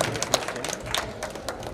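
Scattered applause from a live audience at a Geeta Dham Tinwari performance, individual claps standing out irregularly against a softer background of clapping.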